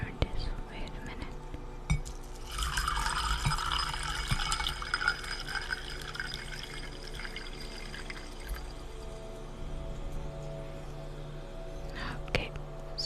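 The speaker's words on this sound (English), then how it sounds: "so that was the water pouring" Water poured softly from a container, a gentle continuous trickle with faint glassy clinks, close and quiet alongside whispered speech in a relaxing setting.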